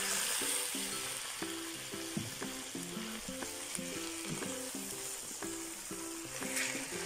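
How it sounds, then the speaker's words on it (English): Shrimp sizzles with garlic in a frying pan for a Filipino-style sweet and spicy shrimp dish, a steady crackling fry under repeated scraping stirs of a utensil against the pan. "we put in our shrimp."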